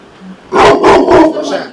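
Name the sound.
guard dog barking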